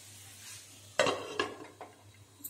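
Mango halva mixture stirred in a pot, with a few distinct scraping, clattering strokes of a spoon against the metal, close and moderately loud over a quiet hum.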